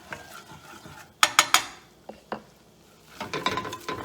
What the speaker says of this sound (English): I like to use my spoon to scrape around the side